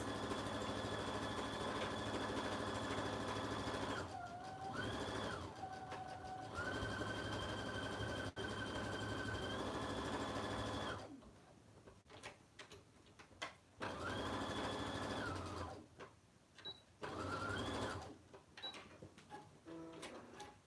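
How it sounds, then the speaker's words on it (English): A sewing machine stitches fabric for oven mitts in a steady, close mechanical hum with rapid needle chatter, pausing briefly in short gaps and restarting in bursts before stopping near the end. "I'm just gonna go ahead and sew this like that."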